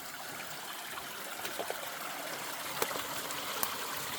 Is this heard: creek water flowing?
yes